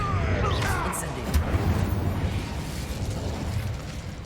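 In Hogwarts Legacy, the Incendio fire spell goes off with a burst of flaming whooshes and crackling pops amid busy game combat noise, heard close and fairly loud.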